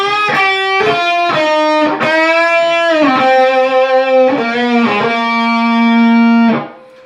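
Distorted electric guitar plays a solo section from a song, loud and close, with a run of quick picked notes, bends and sustained tones with vibrato before cutting off at the end.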